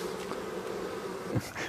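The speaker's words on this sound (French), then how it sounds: "Une abeille peut faire environ 4-5 km autour de la ruche pour" Bees buzz around their hives in a rural setting, a steady droning hum with close passes rising and fading, heard alone without talk.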